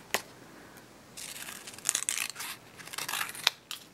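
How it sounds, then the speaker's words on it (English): Several short snipping and crisp rustling bursts of scissors cutting through paper, close up, with brief quiet gaps between cuts. "you can just cut it with a scissor, of all things."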